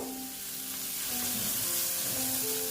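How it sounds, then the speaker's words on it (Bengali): Spice paste (masala) sautéing in a pan for a boal fish curry, a loud, continuous close-up sizzle and crackle with faint stirring scrapes, steady for the whole stretch. "প্রায় হয়ে গেছে আর একটু কষিয়ে নিচ্ছি তারপর আমি জল অ্যাড করবো"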